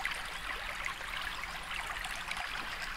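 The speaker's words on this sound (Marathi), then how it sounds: "हे पाणी सतत चालूच असतं" Irrigation channel water flows steadily in the village of Naringre, Devgad, a continuous faint trickling rush with no voices.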